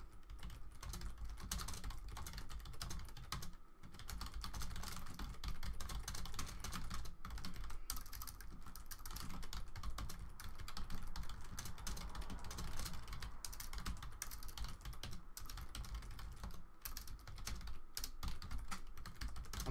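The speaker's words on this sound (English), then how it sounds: "Sorry for the aggressive typing sounds." Rapid, continuous typing on a computer keyboard, clicky keystrokes in quick bursts with brief pauses, recorded close but at low level.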